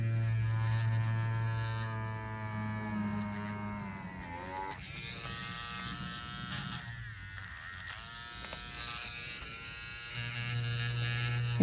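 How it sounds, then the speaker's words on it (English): Small handheld pencil drill whirring steadily as it bores holes in polymer clay earring pieces on a tile, a continuous high motor buzz with slight pitch shifts as the bit bites, no talking. "I've got a little handheld pencil drill."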